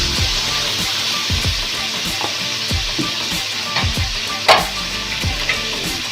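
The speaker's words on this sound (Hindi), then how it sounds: "मसाले को फ्राई करने के बाद इसमें हम टमाटर ऐड कर देंगे" Two medium tomatoes frying with masala for bhindi keema in a pan over low flame, a steady loud sizzle broken by repeated scraping stirs, no talking.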